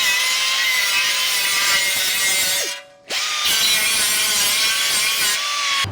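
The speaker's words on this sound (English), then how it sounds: "with these grinders, you can take a lot off in a little amount of time" Grinder smoothing the sharp edges of a trimmed dust shield on a 2019 or later Chevy 1500 during a 4-inch lift install, a loud, steady high-pitched abrasive whine that briefly cuts out and spins back up midway.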